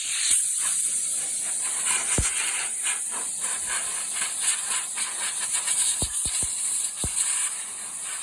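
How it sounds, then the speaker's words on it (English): Compressed air from a hose blasts dirt out of the cutter knife on a Massey Ferguson 9024 straight combine header that has sat unused for over ten years. It makes a continuous loud hiss broken by a few sharp metallic clicks and rattles. "I'll take the air hose there and get the dirt blown out of there"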